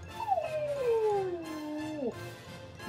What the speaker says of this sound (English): You howl for the chickens?